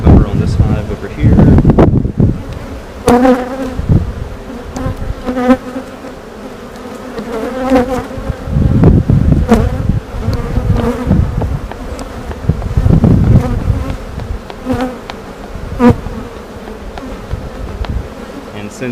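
Honey bees buzzing around an opened hive during a routine inspection outdoors, a dense, close droning hum with individual bees swelling loudly past the microphone, mixed with wind noise and bursts of handling sounds.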